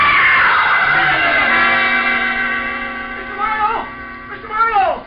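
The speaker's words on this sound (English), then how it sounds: "Somebody screamed!" A woman's high, sustained scream in an old radio drama, loud and close, with a long wavering cry that rises again in shorter shrieks toward the end.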